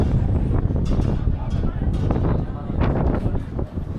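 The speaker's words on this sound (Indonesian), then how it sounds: "Suara angin terdengar cukup keras." Strong wind at the summit platform of Monas tower in Jakarta, loud gusty rushing buffeting the microphone continuously, with a voice talking underneath.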